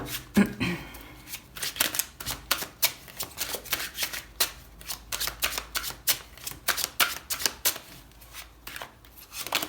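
Tarot cards shuffled by hand in a quick series of crisp riffles and flicks, close and fairly soft, with only a little background noise.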